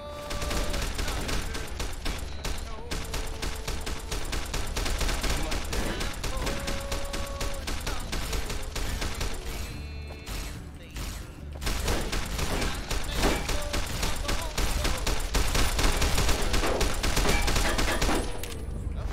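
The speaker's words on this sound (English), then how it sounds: "don't shoot me point blank with a shotgun" Rapid, overlapping shotgun blasts in Fallout: New Vegas roll on almost without pause for nearly twenty seconds. The bursts are loud and dense, with a short lull near the middle before the firing picks back up.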